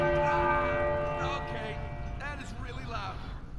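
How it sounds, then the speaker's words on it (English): A church bell ringing in a bell tower in Uncharted 4, its sustained resonant tone fading out over a few seconds while music and a talking voice run underneath. "Right, that's the bell."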